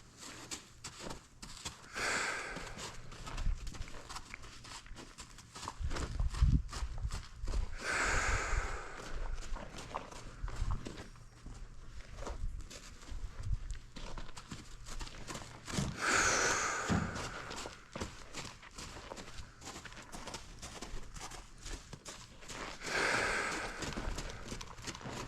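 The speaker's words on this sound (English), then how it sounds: "It's a walk, trot, and lope both directions here." A young filly is worked at a walk, trot and lope, her hooves drumming in a steady, shifting rhythm on the ground. There are snorts and breaths throughout, and no talk.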